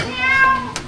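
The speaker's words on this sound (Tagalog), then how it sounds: "Pusa yun, pusa." A cat meows once or twice in a short, high, drawn-out call inside a camper van, with a faint burst of noise at the end.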